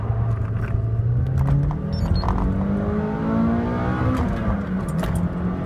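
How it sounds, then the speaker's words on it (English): A 2003 Toyota Matrix XRS accelerating flat out from inside the cabin, its engine note climbing steadily in pitch, dropping at a gear change, then rising again, loud and continuous with no speech. "Just gonna try and go flat out and see if it's accelerating and lifting and VVTIing properly."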